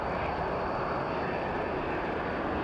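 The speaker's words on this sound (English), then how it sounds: "The biggest jet display team in the world, 10 MB339 jet trainers. Taking off in 2 groups of 5." Frecce Tricolori, the Italian Air Force display team, fly MB339 jet trainers at the RIAT 2002 air show at RAF Fairford, producing a loud, steady jet roar that fills the whole stretch with no talk.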